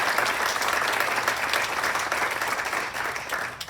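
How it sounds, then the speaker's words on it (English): An audience at a hall of fame ceremony breaks into sustained applause, a thick, continuous patter of many hands clapping at steady volume, easing slightly toward the end. "Give them a round of applause."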